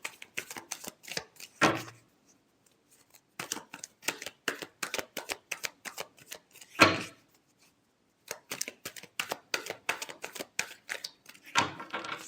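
Tarot cards are shuffled by hand in a close, quiet series of crisp riffling clicks and flicks. The clicks come in bursts, with a few louder slaps of the deck and short pauses between them, and no talking.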